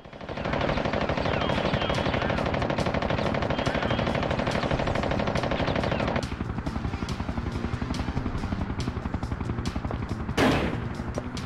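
A machine gun in the video game Fighting Force fires a rapid, unbroken stream of loud shots. The rhythm stays steady throughout, with a brief burst of noise near the end.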